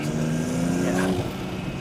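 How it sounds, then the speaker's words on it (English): A BMW M340i's turbocharged inline-six pulls under acceleration with a steady, rising engine drone and a faint whistling spool, a brief shift-like dip near the end, no voices. "The turbo spool is also insane."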